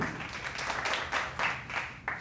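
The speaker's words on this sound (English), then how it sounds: "So by a round of applause, give it up for Elfie Stubbs." A small audience applauds a guest on a home-made talk show, with uneven clapping that comes in distinct bursts and swells, fairly quiet and close, with no talk over it.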